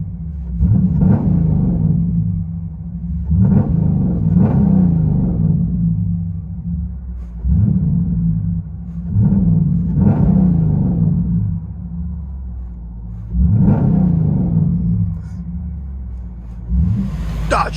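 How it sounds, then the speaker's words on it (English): A 2020 Dodge Durango RT with a Black Widow exhaust and 5-inch tips gives deep, loud rumbling revs, about six rising and falling blips at irregular gaps over a steady low idle burble. "Dodge Durango 2020 RT, Black Widow neighbor haters with 5-inch tips"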